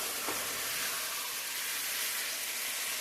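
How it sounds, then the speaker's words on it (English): A simmering one-pot meal gives a steady soft hiss and bubbling sizzle, close and continuous, with faint stirring through a short stretch. "let's stir it one more time"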